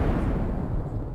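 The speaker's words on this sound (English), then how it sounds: "did you get hurt by his explosion?" A boss exploding in Secret of Evermore, a short deep rumbling blast that fills the low end and fades slightly over about a second, loud and alone.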